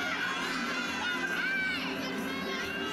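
A wild, loud crowd cheering and shouting without pause at a Georgia versus LSU college gymnastics meet, a dense roar of many voices filling the arena.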